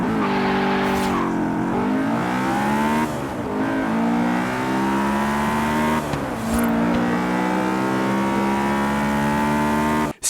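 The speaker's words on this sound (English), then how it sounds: "Let's just replay that VTEC kick" A Honda S2000 AP2 engine revs hard and loud, its pitch climbing steadily through the VTEC kick, dropping at each gear change, then wailing upward again over about ten seconds.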